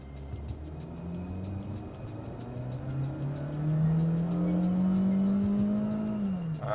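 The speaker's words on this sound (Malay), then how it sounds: "Bunyi enjin juga sedikit bising setiap kali sistem transmisi downshift atau bertukar kepada gear yang lebih rendah" A Proton car with a CVT transmission drives along, its engine droning and rising in pitch as it downshifts, a steady close cabin hum with a noticeable change partway through, no talk.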